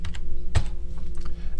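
A few scattered keystrokes on a computer keyboard, with one firmer tap standing out near the middle, as a shape is being repositioned in a lettering design program; quiet and close, with no talking.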